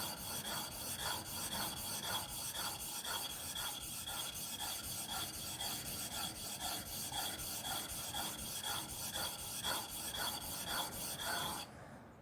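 A wood chisel carves a soft wood olive bowl with a fast, even rhythm of rasping strokes, close and fairly loud, which stop abruptly near the end.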